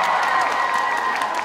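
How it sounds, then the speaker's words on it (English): An audience claps at a cosplay awards ceremony at Zenkaikon 2022, giving a short burst of dense, sustained applause from a modest crowd with faint cheering. "They're clapping, there's 4 of them standing"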